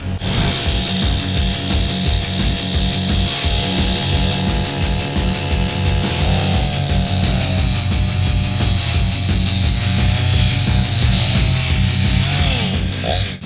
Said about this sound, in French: Il nous faut une tronçonneuse